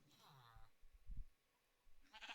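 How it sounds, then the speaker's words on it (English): A sheep in a Minecraft village bleats in short synthetic calls, one near the start and another at the end, with faint low murmuring between them. "Oh, look at the little black sheep."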